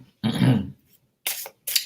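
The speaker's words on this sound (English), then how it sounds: "I started coughing" A single deep cough, then two short raspy throat-clearing bursts after a brief pause, close and fairly loud.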